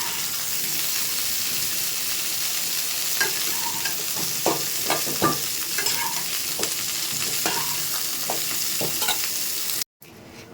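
Steady, loud sizzling of cauliflower and potato frying in a wok, with a spatula scraping and knocking against the pan at irregular intervals, then a sudden cut.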